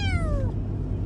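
A small cat gives a single short, high meow whose pitch falls, heard close against a low rumbling background such as a moving car.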